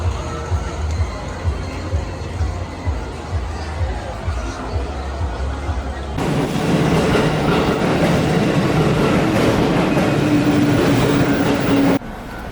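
Shinkansen bullet train ride between Osaka and Kyoto, a steady loud rumble with faint clickety-clack that abruptly shifts to a brighter, denser roar midway, then drops away at the end.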